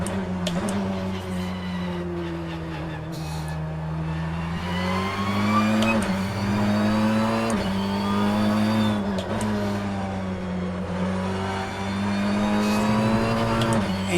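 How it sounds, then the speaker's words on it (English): A race car engine in the rFactor racing video game drones steadily through laps, its revs rising and falling with gear changes and braking, loud and continuous from the driver's position with no talk. "I'll do one more lap because I'm enjoying driving the car."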